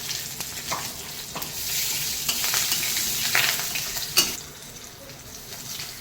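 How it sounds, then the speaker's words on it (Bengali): Bay leaf, dried red chili and panch phoron spices hiss and crackle in hot oil, a steady close sizzle with occasional sharper pops and a louder spit near the end, no voices. "প্রথমেই ফোড়ন দেবো তেজপাতা আর লঙ্কা আর এই পাঁচ ফোড়ন"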